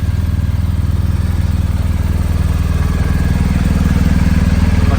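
A BMW R1250 GSA motorcycle engine, freshly started on a cool 11-degree day, idles close and loud with a steady, even pulsing throb and no pauses.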